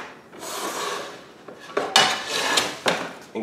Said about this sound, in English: Cover some sort of pan with some tin foil